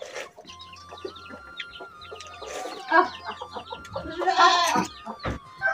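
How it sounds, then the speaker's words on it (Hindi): Goats bleat in a village yard alongside clucking chickens, with several short, separate animal calls close by in quick succession and no talking. "इधर बकरी सब भी आ गई है।"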